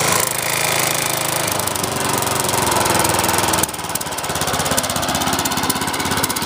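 Toro lawn mower with a Tecumseh engine runs loud and close, then drops from high speed to a lower, steadier idle partway through, with slight surging.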